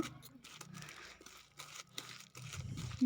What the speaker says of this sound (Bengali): এবার এগুলোকে ভালো করে মাখিয়ে নেব।